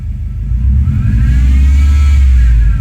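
A Subaru Forester Turbo engine revs under throttle, its heavy low rumble rising and holding steady for a few seconds, close and loud with no talk.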